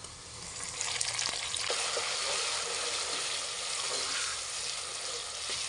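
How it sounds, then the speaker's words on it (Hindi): Crushed tomatoes frying in a pan with browned onion and cumin, giving a steady bright sizzle that holds for several seconds with occasional stirring clicks and no talking. "अब टमाटरों को हम अच्छी तरह भूनेंगे, पका लेंगे इसी तरह।"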